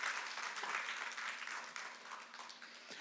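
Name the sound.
congregation applauding in church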